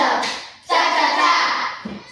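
A class of children claps in appreciation, a short burst of rhythmic hand claps with a brief pause, then a louder sustained round fading into a final few claps.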